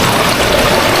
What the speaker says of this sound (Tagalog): Umaagos. Sobrang lakas pa.